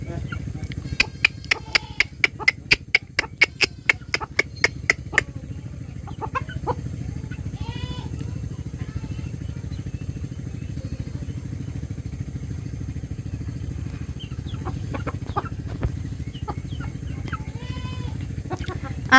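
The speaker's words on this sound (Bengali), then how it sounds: "আমার মুরগি মোরগ মুরগির বাচ্চা খুবই সুন্দর ফ্যামিলি।" Chickens, a rooster and chicks pecking and clucking while feeding on rice, with a run of sharp rhythmic clicks early on, then scattered clucks and chirps over steady low background noise.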